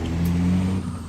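Truck engine from a truck-driving video game fitted with Slav Jerry's engine mod, a steady low droning rumble with a brief hiss of air near the start, alone and fairly loud.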